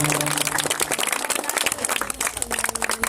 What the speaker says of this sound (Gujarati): અમને બધાએ તાળીથી વધાવી લેવાના છે